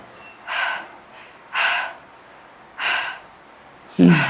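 Heavy breathing during a gym workout: four sharp, close breaths puffed out at a steady interval, each followed by a short pause, the last one deeper and more forceful.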